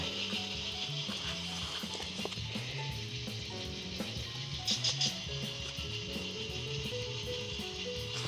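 A model locomotive sound decoder set to an EMD 567 non-turbo diesel idles with a throbbing low rumble and shifting engine notes under a constant hiss, no talking.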